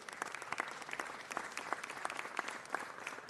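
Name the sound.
applause at a city council meeting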